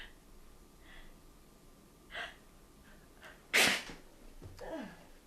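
A single sharp sneeze bursts out near and loud after a couple of soft breaths, followed by a brief exhale, in a quiet indoor room with no talking.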